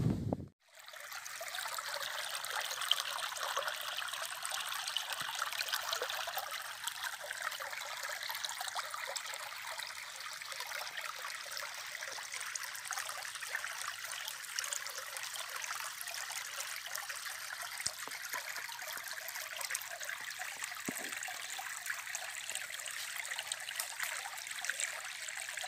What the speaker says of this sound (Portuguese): Um sítio que tem um riacho desse aqui,